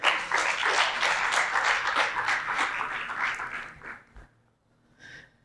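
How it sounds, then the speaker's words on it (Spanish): A church congregation claps in praise to the Lord, a loud burst of applause that fades out after about four seconds, followed by a brief quiet sound. "Denle un aplauso al Señor."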